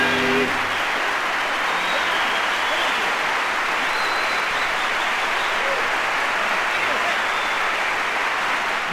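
Steady, dense applause from a concert audience fills the room at an even, continuous level throughout, a broad hiss of many hands clapping without breaks.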